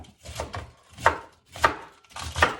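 A knife chops vegetables such as cabbage and carrot on a board for a mixed vegetable stir-fry, with four or five crisp, close strokes in an uneven rhythm.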